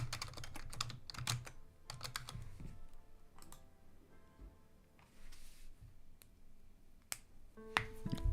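Fingers typing on a computer keyboard in rapid bursts of clicks, interspersed with sharp knuckle cracks, close and fairly quiet, with brief pauses between flurries and no talking.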